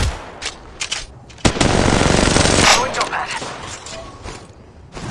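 Rapid automatic gunfire from Apex Legends Mobile, loud and close, with short bursts early on building into a long sustained volley of shots that tails off into scattered rounds.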